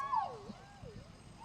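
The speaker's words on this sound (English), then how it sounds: "There we go, some sirens. Competing sirens." Two wailing sirens during a homecoming parade sweep up and down at different pitches, overlapping one another from a distance, with no talking.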